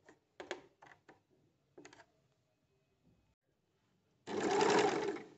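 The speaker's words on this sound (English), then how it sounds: "as per the hole and continue stitching. Darning stitch by using foot in swing machine." A home sewing machine sews a darning stitch with a darning foot, stitch width set to zero, in a few short whirring bursts separated by quiet pauses, then a longer, louder close run at the end.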